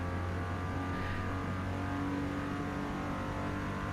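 A car engine hums and revs steadily in the Forza Motorsport racing game, a continuous droning tone with slight pitch shifts, alone and fairly loud.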